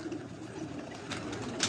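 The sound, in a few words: pigeons cooing on rooftop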